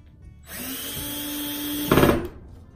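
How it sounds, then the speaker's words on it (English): A power drill whirs up to a steady whine, then bites into a wooden board, pre-drilling a hole, with a brief louder grinding burst before spinning down. "So pre-drill your holes into your board."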